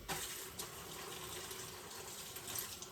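Hot water runs from a tap into a bowl of Swedish meatball mix, a steady close hiss and gush of splashing lasting a few seconds with no talk.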